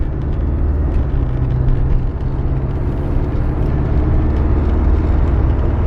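A 1986.5 Porsche 928 rumbles along on the road, its engine a deep, steady drone blended with tire and wind noise from inside the cabin, with no talk.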